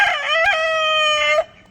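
Rooster on a farm gives one loud, close crow lasting over a second before cutting off, alone without talk.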